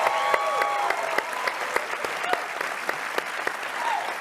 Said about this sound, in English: Everybody, a big clap for Chris.